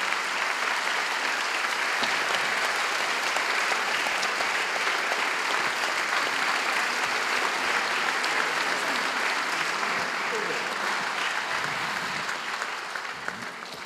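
Continuous lecture-hall applause from a large audience, thick and steady for most of the stretch before tapering off slightly at the end, with no speech over it.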